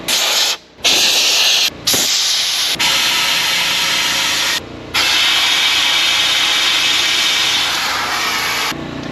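Undercoating sprays onto a Chevy truck as a loud, close, steady hiss in long bursts, cut by a few brief pauses between passes.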